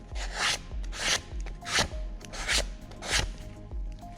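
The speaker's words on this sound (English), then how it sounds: "You can get sanding paper and just sand it bit down." Sandpaper scrapes across the metal contacts of a car starter motor from a 2010 Mazda 6, with about six steady, rhythmic back-and-forth strokes, close and clear with no talking.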